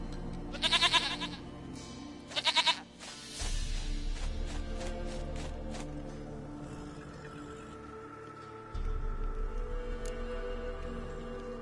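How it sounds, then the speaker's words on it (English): Goat bleating in The Witcher 3, several sharp wavering bleats early on, followed by sustained low droning tones and a second bleat-like burst, loud and close with no talk. "Goat of mine, dearest,"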